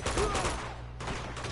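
Brief, loud spray of gunfire in Uncharted 2 multiplayer, dense shots filling the whole moment with a slight dip partway through.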